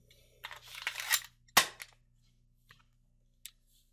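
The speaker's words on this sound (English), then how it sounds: "pull the trigger. We should hear a click." A Ruger Mark III pistol being dry fired: a rattle of handling and the bolt being racked, then one sharp, close metallic click of the trigger, followed by a couple of faint small clicks, with no talking.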